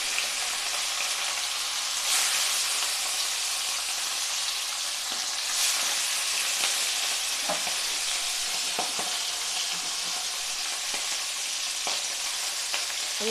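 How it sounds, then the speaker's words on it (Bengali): Fresh river khoira fish fry in hot oil with a loud, steady, dense sizzle throughout, broken by occasional clinks and stirring noises close to the pan. "তেল ভালো করে গরম হলে তারপরে আমি মাছ দিচ্ছি।"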